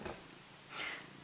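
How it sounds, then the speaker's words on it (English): A cat purrs loudly at close range, a low rumbling burst at the start followed by a brief higher snuffling breath near the end. "You may hear her purring, it's quite loud."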